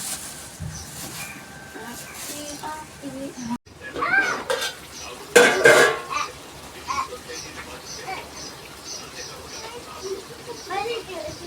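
Gongura chicken curry bubbles and simmers in a pot and is stirred, with soft sizzling, scraping and occasional metallic clinks heard close. Someone talks over the cooking for most of it.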